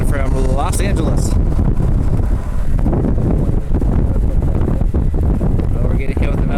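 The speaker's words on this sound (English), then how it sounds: "we're getting hit with another pretty powerful gust and rain" A powerful gust of wind hits the microphone during a high wind warning at Cleveland Hopkins airport, with loud, constant roaring buffeting and someone talking over it.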